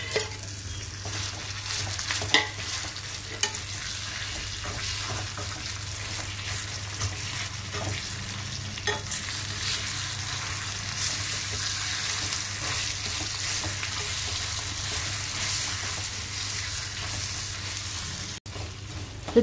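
Ground brinjal and tamarind chutney cooks in a tempering of seeds, garlic, dried chillies and curry leaves in oil, giving an even, unbroken sizzle with faint stirring scrapes throughout.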